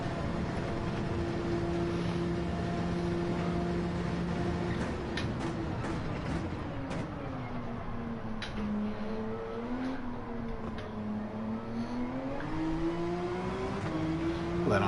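Car engine in Gran Turismo 7 racing on track, a loud steady tone that dips, then climbs and rises repeatedly through gear changes and revving, continuous and close with no talk over it.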